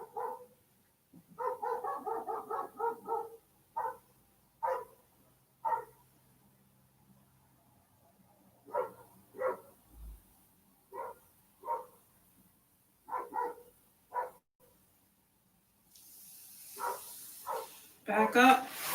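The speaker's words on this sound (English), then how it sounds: "My neighbor's dog." A neighbor's dog barking outdoors during a quiet indoor exercise class, heard as distant bursts of single and clustered barks with long silent gaps, the barking growing denser and louder toward the end.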